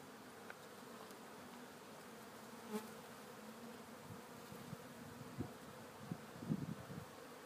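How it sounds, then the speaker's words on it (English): Honeybees buzz steadily around an opened beehive during requeening, a low continuous hum with a few louder passes of bees flying close near the end. "You see how the bees are starting to come out at me."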